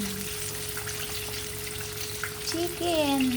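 Steady sizzling of chicken frying in hot oil, a constant crackling hiss near at hand, with a brief voice rising toward the end.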